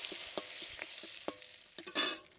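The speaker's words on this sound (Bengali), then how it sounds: "মোচার ঘন্ট করার জন্য আমি আগে তেলের পর তেজপাতা দিয়ে দিচ্ছি" A bay leaf dropped into hot oil for a banana-flower ghonto, soft sizzling under sharp clicks of a spoon or ladle stirring, with a brief louder crackle near the end.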